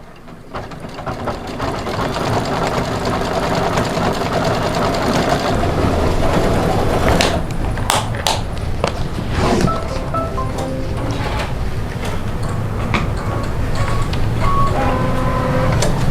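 A computerized embroidery machine runs continuously while stitching a moon-block applique on a Halloween placemat, giving a steady mechanical whir with rapid needle clatter and a few sharp clicks and beeps near the end, with no talking.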